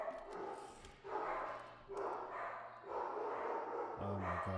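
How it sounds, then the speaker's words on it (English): Pet dogs barking in bursts at a distance, somewhat faint and muffled, several short volleys in a row in a home room with no talk. "Oh, there goes my dogs."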